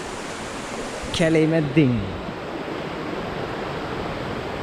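Streams of water run through a forest in a continuous broadband rush, steady and close, with a short spoken phrase over it partway through.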